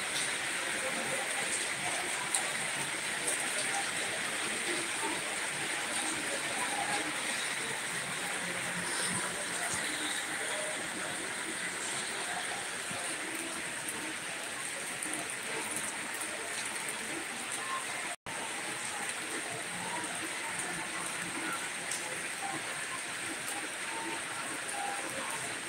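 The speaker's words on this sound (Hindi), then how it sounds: "देख सकते हैं तेज तेज बारिश हो रही है।" Steady dense hiss of heavy rain falling in Odisha, India, continuous and even throughout, with a brief dropout partway through.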